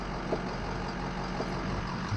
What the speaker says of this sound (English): The engine's going.